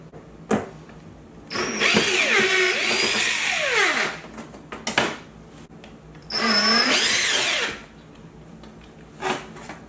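A power drill backs screws out of vents in a reptile room, two distinct whirring bursts with rising and falling pitch as the motor speeds up and slows, with small clicks between.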